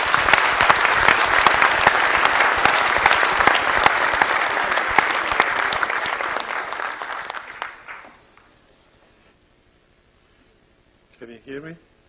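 Conference audience in a hall in Eindhoven applauding as a presenter comes on stage, dense steady clapping for about eight seconds that fades out, followed by silence and a brief voice.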